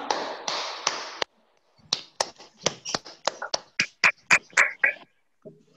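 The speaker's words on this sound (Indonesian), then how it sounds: "Tepuk tangan dulu untuk kita semua." Students in a classroom clapping in a short, irregular burst, with sharp separate claps and taps close by, broken by quiet gaps and some rustling, no steady applause.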